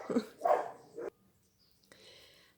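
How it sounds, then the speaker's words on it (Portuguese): A dog barks outdoors, three short sharp barks in quick succession, moderately close, followed by quiet with faint background noise. "O cachorro já tá latindo aqui fora,"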